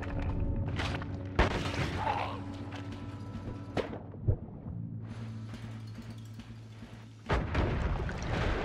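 Bombs going off in the pixel-physics video game Noita: several sharp, booming blasts at irregular intervals, the strongest near the start and end, over a steady humming game background.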